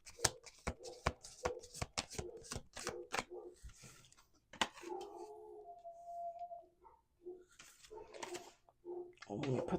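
Playing cards are shuffled at a table among friends in a rapid series of crisp, close riffle bursts, followed by people talking.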